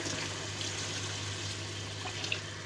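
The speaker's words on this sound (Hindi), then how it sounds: "तो अब इसमें तकरीबन 3 गिलास हम पानी डालेंगे।" Water pours steadily into a cooking pot of bottle gourd and meat curry with softened tomato and onion, a continuous close splashing fill with no talking.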